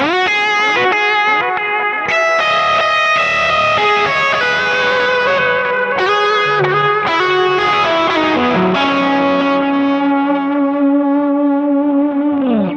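Electric guitar played through a Kemper amp profiler with the reverb switched off, giving a dry, distorted tone: a loud, continuous run of ringing chords and single notes with sustained endings and no talking.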